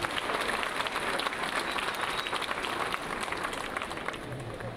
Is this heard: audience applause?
yes